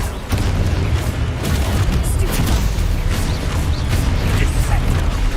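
Confringo fire spell blasts in the Hogwarts Legacy video game, a loud, dense run of booming explosions and impacts filling the whole stretch with heavy low-end rumble, no pauses.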